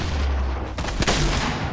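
Grenade launcher explosion in Fortnite, a couple of sharp cracking blasts about a quarter second apart over a steady loud game rumble.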